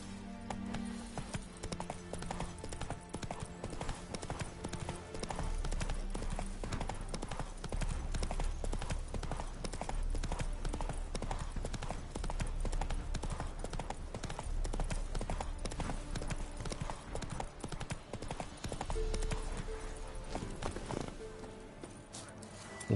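Roach, a horse in the video game The Witcher 3, gallops with steady, loud, rapid hoofbeats that run almost continuously, with a brief whinny and game music and effects underneath.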